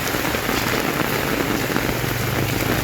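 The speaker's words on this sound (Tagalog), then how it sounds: "lakas ng ulan" Heavy rain pours steadily, a dense continuous hiss of drops drumming on surfaces with no pauses and no voices.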